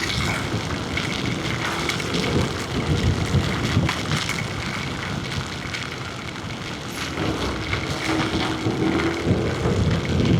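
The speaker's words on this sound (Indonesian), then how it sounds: "Hujannya deras guys." Steady heavy rain pours down in a dense, continuous wash during a solo motorbike tour in Indonesia, loud and close throughout with no let-up and no voices.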